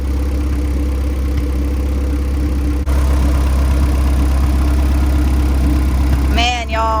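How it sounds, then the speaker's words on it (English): A boosted Honda Del Sol with a new engine idles high on a cold night, a steady low droning rumble with constant harmonics, close and loud, with a brief higher chirping sound near the end. "I don't know why it was idling so high."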